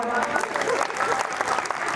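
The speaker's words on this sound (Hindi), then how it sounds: "एक बार ताली बजाओ।" Audience applause at a kavi sammelan poetry recital, a continuous spread of clapping from a seated crowd with a voice faintly present underneath.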